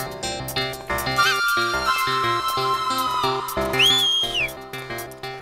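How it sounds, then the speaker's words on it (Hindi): A man whistles at a flower-garland seller with a long sustained tone and then a quick rising-and-falling wolf-whistle, heard over a busy background of rhythmic music and bleating-like sounds. "सीटी मार रहा हूँ।"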